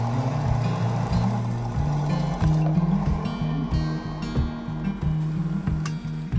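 A Funai video cassette player running in forward mode gives off a steady mechanical whirring hum with a low, pulsing motor drone that stays constant throughout, close and moderately quiet.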